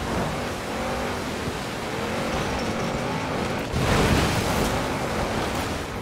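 A V10-swapped Audi RS7 rally car in Forza Horizon 4 drones along with a steady, heavy engine roar that swells louder near the end, with no talking.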